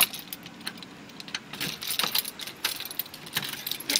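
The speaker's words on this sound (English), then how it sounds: "My keys, I got so much stuff on this key." A crowded keychain jangles and clinks continuously at close range, bright metallic rattling rising and falling over a faint background of a car, with no talking.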